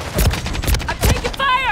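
Gunfire from Call of Duty Modern Warfare 3 in a tense combat firefight, several quick loud shots bursting close together over about two seconds, followed by a rising electronic tone.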